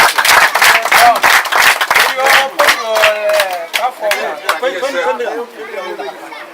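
Crowd applause and clapping at a school building key handover ceremony, mixed with lively chatter and cheering, dense at first and thinning out toward the end.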